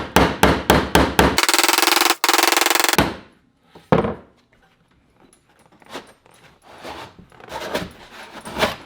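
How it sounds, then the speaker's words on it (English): Rapid hammer blows strike sheet metal in a quick series while shaping a rusted Nova's rocker panel, followed by a sustained grinding burst and then scattered, softer taps and scraping. "I'll just take a hammer and I'll just massage it"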